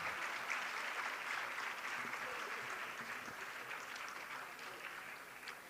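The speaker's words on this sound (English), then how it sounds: "Please can we have a bigger applause for Dr. A. Rekha." An audience applauds a guest surgeon at a live grand finale stage event, a dense, steady roar of many clapping hands that holds throughout and fades slightly toward the end.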